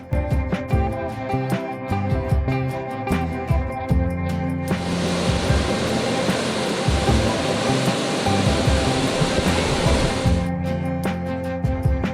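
Steady, loud rush of a waterfall in Capitol Reef National Park roars for several seconds, a broad continuous hiss, with a quieter, choppier background before and after.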